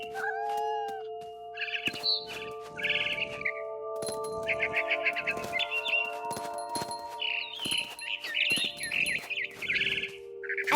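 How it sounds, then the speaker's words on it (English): Barn swallow chirping in the video game What Remains of Edith Finch, bursts of bright twittering calls repeating over a steady ambient hum, with clinking game effects scattered between them. "Then I heard chirping outside my window. It was a barn swallow going back to her nest."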